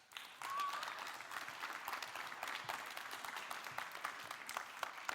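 An audience at a youth leadership conference gives a steady round of clapping. It sounds fairly faint and distant and keeps an even, continuous texture throughout.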